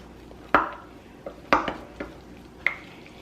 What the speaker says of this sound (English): let's go ahead and just stir this up